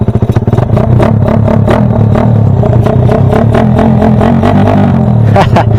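A Raider 166cc motorcycle engine idles and revs nearby with its carburetor being tuned, a loud, rough, rapid pulsing with rattly clatter throughout.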